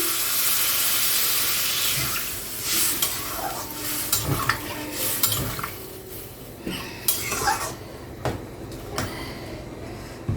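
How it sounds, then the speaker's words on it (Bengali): Water goes into a frying soybean and potato curry, setting off a loud steamy hiss at first that settles into quieter sizzling. Scattered spoon stirs and clinks against the pot follow, with no talking. "এবার আমি এতে জল দিয়ে দিচ্ছি।"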